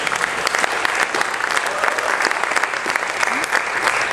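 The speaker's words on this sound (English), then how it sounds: "A round of applause," An audience applauds a singer taking the stage at a celebration night for a friend: dense, steady clapping from many hands, close and loud throughout, with no speech.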